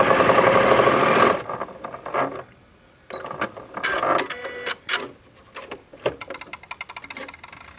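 A Janome Memory Craft 6700P sewing machine starts up with a loud, steady whir, then runs in uneven mechanical bursts of clicking and rattling from the needle and feed, close by with no talk.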